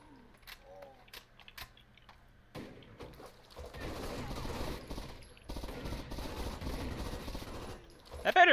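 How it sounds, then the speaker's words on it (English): Distant, fairly quiet gunfire from Rainbow Six Vegas 2, with scattered sharp shots early, then a denser stretch of rattling fire, and faint voices at times. "That better be you shooting to my left."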